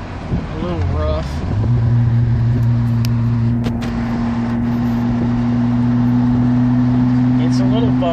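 A 1984 Toyota Celica Supra engine with a holed muffler drones loudly and steadily, a deep rumbling exhaust note holding constant throughout, with a person talking over it.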